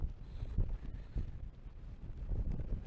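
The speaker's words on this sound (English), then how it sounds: "Very strong wind." Strong wind blowing outdoors, buffeting the microphone in low gusty rumbles that rise and fall continuously, with no voices.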